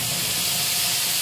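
Potatoes frying in a pan as spices go in, giving a steady, loud, broad hiss of sizzling oil that holds evenly throughout with no talk over it.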